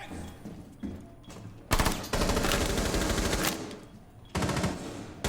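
Rapid automatic gunfire rattles in a first-person shooter match, loud close bursts with short pauses, ending in a sustained volley, with faint commentary underneath.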